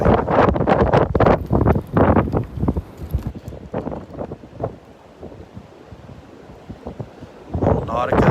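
Gusty wind blowing across a beach boardwalk at Delnor-Wiggins, with loud buffeting bursts on the microphone that ease into a quieter rush before surging again near the end.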